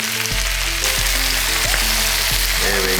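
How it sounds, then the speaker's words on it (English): Bambino cabbage fries and sizzles in olive oil with sugar, a steady loud crackle with occasional stirring clunks and scraping throughout. "So we wanna blacken the bambino cabbage."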